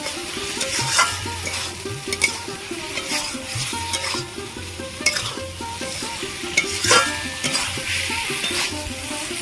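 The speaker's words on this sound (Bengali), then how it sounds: "এবার আমি এই ভেজে রাখা এগুলো দিয়ে দেব। ভালো করে একটু কষিয়ে নেব।" Fried jackfruit seeds stirred and sautéed in a pan of thick gravy, giving a steady sizzle with repeated scraping strokes of the spoon at moderate, close loudness and no talking.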